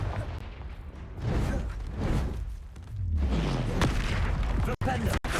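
In Hogwarts Legacy, the Confringo spell sets off booming explosive blasts in bursts amid heavy combat noise, loud and close, with a falling whoosh after the three-second mark.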